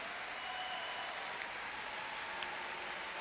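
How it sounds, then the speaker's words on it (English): Chinese players and supporters applaud at a men's team table tennis gold medal match against Korea, a steady patter of many hands clapping at moderate distance, fairly quiet and even throughout. "The Chinese players are all clapping. There's a big contingent clapping now"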